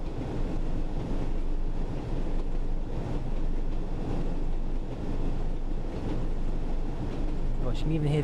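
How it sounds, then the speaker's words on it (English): A Class 101 diesel train in the Train Sim World game runs with a steady low engine drone and rumble as it slowly approaches a station. A faint voice is briefly heard near the end. "You can even hear the engine there as well."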